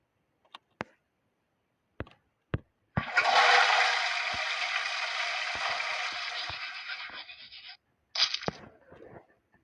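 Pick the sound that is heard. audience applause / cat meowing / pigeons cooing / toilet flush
toilet flush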